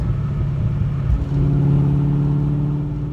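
A Coyote-swapped Ford Foxbody Mustang pulls at wide open throttle, its V8 rising into a loud, steady, droning roar after a brief lower rumble, heard from close by with no talk.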